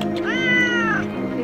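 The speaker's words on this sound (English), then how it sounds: "And there's also so many kitties around here." A cat at a hotel in Guatemala gives one clear, drawn-out meow up close, rising and then falling over about a second before fading into quiet background.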